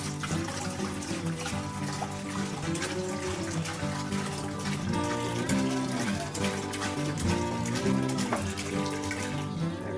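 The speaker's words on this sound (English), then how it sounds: "we're gonna dump this gallon of water" A gallon of water pours into a pot on a small electric burner for a pork shoulder brine, making a continuous splashing, gurgling stream with ringing resonant tones that runs steadily for ten seconds.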